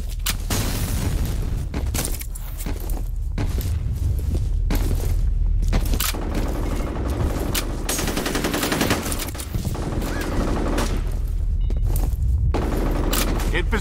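Sustained first-person shooter combat from F.E.A.R. Combat, with dense bursts of automatic gunfire and scattered single shots. Deep booms suggest a grenade blast. Loud and continuous throughout, with voices speaking over the fighting.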